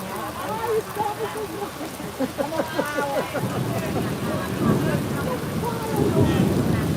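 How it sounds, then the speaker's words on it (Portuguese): Heavy rain pours during a street demonstration on Avenida Paulista in São Paulo, a dense steady wash of rainfall with people talking nearby throughout. "Caraca, puta chuva, mano."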